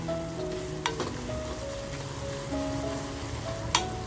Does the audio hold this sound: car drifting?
no